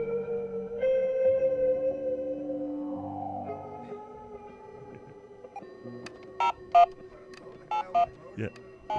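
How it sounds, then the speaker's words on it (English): Telephone dialing tones open the song: sustained electronic tones and a falling glide, followed by a quick run of short touch-tone beeps in irregular bursts near the end. "it starts with a phone dialing"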